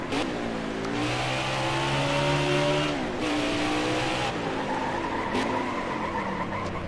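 A race car in the NASCAR Heat 4 video game braking and skidding, tires squealing in long sliding tones over a loud engine that revs and shifts pitch, with no talk.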